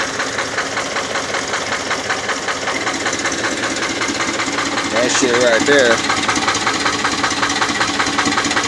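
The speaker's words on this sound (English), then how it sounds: "this is how it sounds when it's running." A Ford Taurus 3.5-liter V6 engine idles roughly up close with a steady, rapid knocking rhythm; someone briefly speaks over it partway through.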